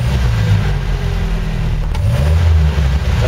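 A Land Rover Series 3 engine runs steadily after a distributor rebuild, a loud close mechanical drone with a slight rise and fall in revs and no talking.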